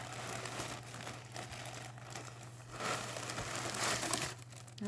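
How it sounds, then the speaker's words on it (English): Crinkling and rustling of a small plastic baggie wrapped around an Old English Sheepdog plush toy during unboxing, continuous soft crackles at close range with a steady low hum underneath. "So you got him wrapped up in some"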